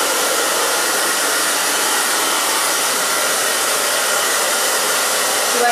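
Loud, steady whoosh of a hair dryer blowing through short hair while it is dried and styled, an unbroken close airflow roar with no voices.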